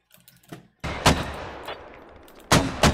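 Mortar rounds in the video game Squad fire and land as a series of heavy booming blasts: a soft thump, then two loud close impacts with long rumbling tails, each about 1.5 seconds apart.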